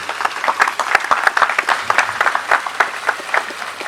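Wedding guests cheer and applaud together in a dense, lively burst of clapping with shouts mixed in, steady and full across the whole moment.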